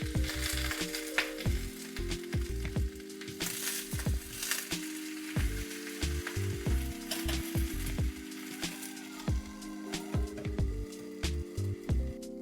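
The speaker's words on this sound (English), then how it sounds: "Flip the cabbage over and cook for an additional 2 minutes." Cabbage steak sizzling and frying in a pan after being flipped, a steady close crackle of hot oil running throughout with small pops and spatters, no voices.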